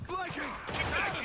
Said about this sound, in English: Grenade! Those bloody grenades.